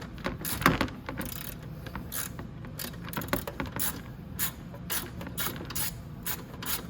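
A ratchet loosens the radiator bolts on a Venom x22GT 250cc automatic motorcycle, giving a rapid run of close, crisp metallic clicks in uneven bursts across the whole stretch, with no talking.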